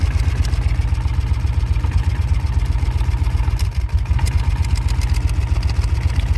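A 1995 Kawasaki Mule KAF620A utility vehicle engine idling while running rich, a close, steady, rhythmic low chugging with a brief dip partway through and no talking.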